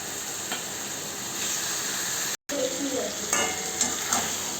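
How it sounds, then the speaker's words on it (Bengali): Mutton pieces fry in oily spice paste, a steady close sizzle broken by a brief dropout and a few stirring scrapes near the end. "আমি তো মশলার সঙ্গে সুন্দর করে আমি মটনটাকে কষিয়ে নেব।"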